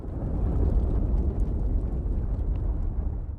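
A massive burst of light essence explodes in the stealth video game Aragami, a loud continuous rumbling roar that fills the whole moment without any speech.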